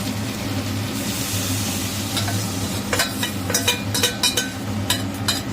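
Egg batter fries in a hot pan with a steady sizzle, joined in the second half by a run of quick, uneven scraping strokes as it is stirred, close and fairly loud.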